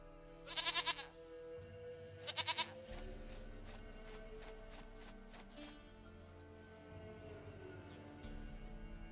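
A goat bleats twice in short, wavering cries about a second and a half apart, over a low, steady background drone.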